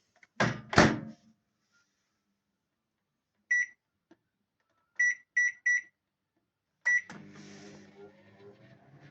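A repaired microwave oven gives several short electronic beeps at intervals, with a door thunk and then a low hum as it starts running.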